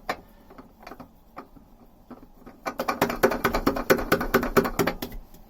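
Screws are driven back in on a Beta 38 narrowboat diesel engine during a service, starting as sparse clicks then building into a dense run of rapid ratcheting ticks from about midway, close and fairly loud, with no talk.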